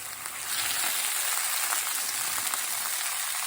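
Sous vide chicken breasts searing in a hot pan give a loud, even hiss of sizzling fat that swells in the first half second and then holds steady throughout.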